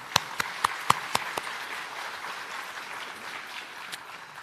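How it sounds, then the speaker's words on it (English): At a smart cities summit and urban informatics conference, a few sharp, separate hand claps ring out over quiet room tone in the first second and a half, followed by near silence and a single faint clap later. "We should give a proud applause"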